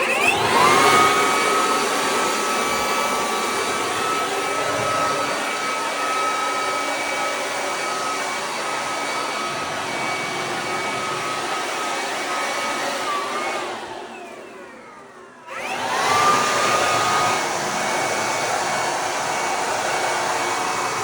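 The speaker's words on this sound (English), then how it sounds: "So, start with the air blower." Electric air blower clearing lint from behind a clothes dryer, a loud steady whining roar that runs continuously, cuts out briefly near the end, then spins back up.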